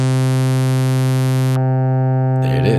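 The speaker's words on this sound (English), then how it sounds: "It's a filter contour. It's attack and release in one knob." A sustained chord on a vintage Gnat synthesizer holds steady, then its bright upper tones suddenly cut away, leaving a duller tone before a swelling, sweeping filter opens again.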